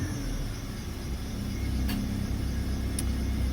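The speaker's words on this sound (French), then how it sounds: "quand je pose le pied sur l'accélérateur, là ça va un peu mieux. Mais elle sature, elle cafouille." A Citroën Xsara VTS engine labours under acceleration, a low steady rumble that swells slightly without a clean rise in revs, heard close with a couple of faint ticks and no talking.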